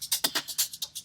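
Shaker loops layered in Cubase, one pushed to the background with a light phaser carrying heavy feedback; a quick, even rhythm of crisp, hissy shakes, about nine bright strokes in just over a second.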